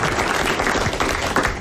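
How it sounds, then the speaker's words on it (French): An audience applauds a contestant, Monsieur Lepin de Quimper, at a 1981 French television show: a dense, steady wash of many hands clapping together, holding at an even level throughout. "vous allez applaudir M. Lepin de Quimper"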